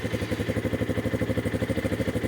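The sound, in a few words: Spark SP300T-6 motorcycle engine starting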